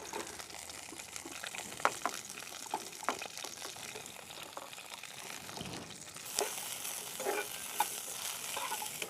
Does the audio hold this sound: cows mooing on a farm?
no